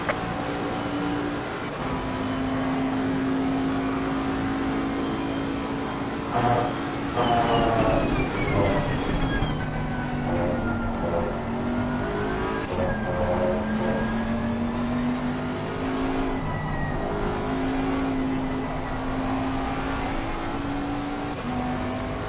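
Race car engine in Assetto Corsa Competizione on PS4 at Barcelona, a sustained loud drone with rising and falling pitch as the car accelerates and shifts, steady throughout with other cars faintly layered.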